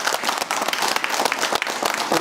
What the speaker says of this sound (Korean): 모두 박수 한번 주시죠.